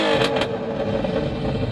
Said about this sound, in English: Rev it, rev it, rev it!